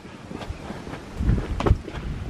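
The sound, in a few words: wind blowing outdoors on a ramble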